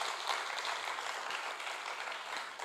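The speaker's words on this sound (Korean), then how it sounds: "박수 한번 해주시죠." A church congregation applauds at a weekday worship service, a steady, dense wash of clapping filling the room without pause, moderately close and even in loudness throughout.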